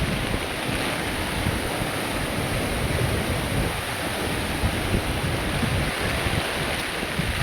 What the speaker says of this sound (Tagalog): Grabe Lakas ng hangin dito Ilog oh Apaw na